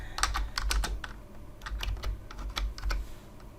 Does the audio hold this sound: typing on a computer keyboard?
yes